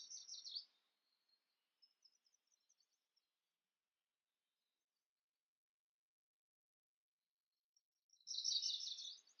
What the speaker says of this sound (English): Berries are just beginning to appear in the bushes, so the birds are very excited,